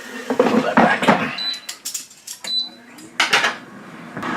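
An air fryer basket holding pork chops on a grilling grate is slid back into the GoWISE USA air fryer, giving a short clatter of metal and plastic with light knocks, while someone talks nearby.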